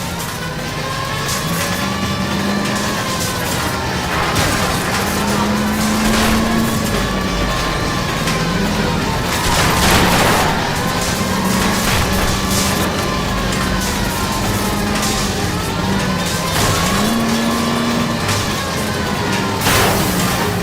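Engines roar continuously through a car chase involving a streetcar in L.A. Noire, with a loud, steady engine drone rising and falling in pitch, plus a siren-like wail and street noise underneath.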